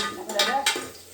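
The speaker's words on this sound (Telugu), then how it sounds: "ఉల్లిగడ్డ పచ్చిమిర్చి వేసేసాం, మంచి గోలుతున్నాయి" Onions and green chillies frying in a pan for bottle-gourd (sorakaya) curry, a soft crackle with stirring scrapes and two brief louder hisses, close and steady without talk.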